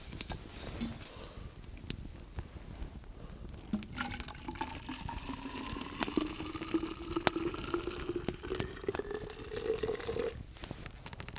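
Water pours into a bottle at a forest campsite for a warm bedtime bottle, its gurgle rising steadily in pitch as the bottle fills, close and fairly quiet with a few faint knocks.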